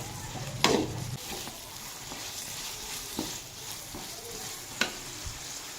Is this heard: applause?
no